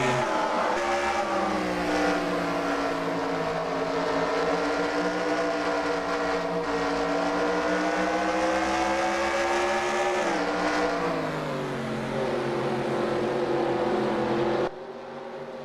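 Race cars pull away at the green flag at North Wilkesboro, behind an orange and black Dodge Challenger pace car, their engines a loud sustained roar that rises and holds, heard near and without voices.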